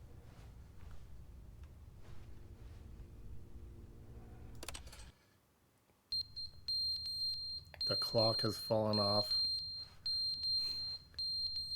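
After speech and a short silence, a thin high-pitched electronic beep from the video game The Stanley Parable Ultra Deluxe starts up and repeats steadily, while someone talks over it.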